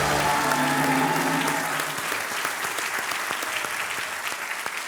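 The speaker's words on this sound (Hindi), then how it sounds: "ये सही उत्तर है और आपकी ताली बन सकती है।" A studio audience on a quiz show breaks into applause for a correct answer, the clapping strong at first and then settling into steady, slightly thinner claps.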